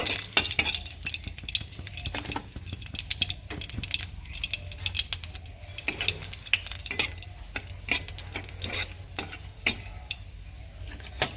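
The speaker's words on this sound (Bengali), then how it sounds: "তেলটা তেতে গেছে শুকনো লঙ্কা ফড়ং দিয়ে দিচ্ছি দিয়ে একটু নাড়াচাড়া দিয়ে নেব" Dried red chillies and whole spices frying in hot oil for a chicken and new potato curry, a steady close crackle with frequent sharp pops and spits and occasional stirring scrapes throughout, with no talking.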